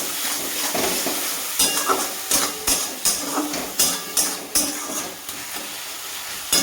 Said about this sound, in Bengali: দিয়ে ভালো করে আবারও ভাজা ভাজা করবো